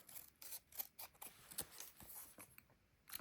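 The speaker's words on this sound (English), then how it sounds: "So I'm actually just going to trim this down," Scissors snip and rasp through cardstock while a Stampin' Up! Z fold card is being trimmed, a quick run of close, quiet cuts with short pauses between them.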